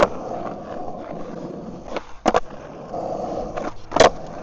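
Skateboard front tail on a street ledge: a rolling rumble under wind, then a sharp double clack near the middle and another loud pop-and-slap near the end.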